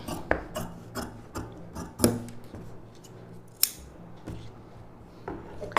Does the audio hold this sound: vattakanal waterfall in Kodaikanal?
no